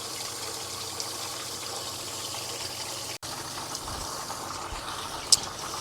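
Water running steadily through home brewing equipment, rinsing it with detergent: an even, close wash of flowing liquid with a brief cut-out midway and a small click near the end.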